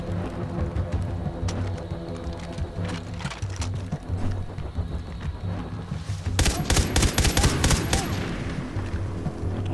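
Rapid automatic gunfire rattles in Far Cry 3 gameplay. Scattered shots come first, then a dense, loud burst of fast fire in the later seconds, close and dominant with no talking.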